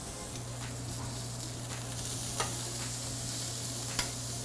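Patties of 80-20 ground chuck beef browning on a hot cooking surface give a steady close sizzle, with a low constant hum beneath and a couple of sharp scraping clicks from a utensil.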